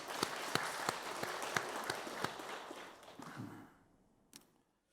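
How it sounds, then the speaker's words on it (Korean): Applause of thanks from a church congregation during a Sunday service, a steady patter of scattered claps with a few sharp louder ones, fading out near the end with one last clap. "감사의 박수 드리겠습니다"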